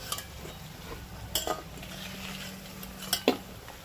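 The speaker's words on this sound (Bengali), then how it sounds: "এইবার পেঁয়াজিগুলোকে তুলে নেব আওয়াজ হবে" Fried onion fritters (peyaji) being lifted out of hot oil, soft sizzling under sharp metallic clinks and scrapes of a utensil against the pan, a few distinct knocks spaced through the moment, close by.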